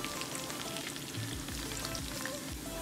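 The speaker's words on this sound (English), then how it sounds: "Add our 3/4 cup of olive oil to a pan, and we're gonna saute our onions in it, fry our onions in it, actually." Onions fry in olive oil in a pan, giving a soft, steady crackling sizzle that stays even throughout with faint scattered pops.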